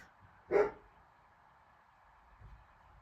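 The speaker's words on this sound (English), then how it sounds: "you hear my dog barking" A single short dog bark near the start, with a faint second yelp later over a low steady hum in the background.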